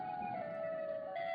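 In a Minecraft horror mod, the Siren Head mob gives off a steady, sustained siren-like wail that holds one droning pitch throughout, faint and continuous, with no speech over it.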